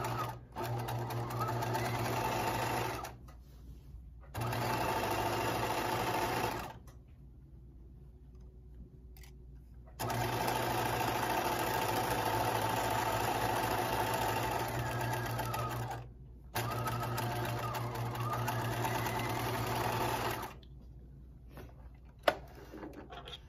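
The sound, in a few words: sewing machine stitching a 1/4 inch seam in romper fabric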